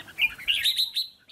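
A tame red-whiskered bulbul calling outdoors, a quick series of bright, sharp chirps and tweets close by, with no voices.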